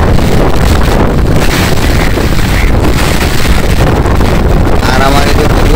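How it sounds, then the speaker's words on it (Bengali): Strong storm wind roaring across a Bangladeshi village, loud and unbroken, battering the microphone throughout. "এমন বাতাস ছুটছে আগানোর মতো কোনো সিস্টেম নেই"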